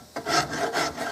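A rasp scrapes across a wooden rifle stock in several quick rhythmic strokes, close and rough-textured, with no voices.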